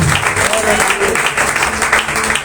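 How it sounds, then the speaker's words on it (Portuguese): A church congregation applauds during a service, a loud, continuous wash of many hands clapping together with voices mingled in, sustained evenly across the whole span. "Você pode aplaudir o Senhor?"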